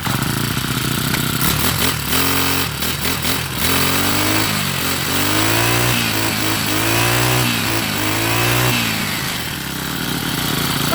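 Honda GX35 brush cutter engine running steadily after starting, a loud, close four-stroke drone that wavers slightly in pitch throughout.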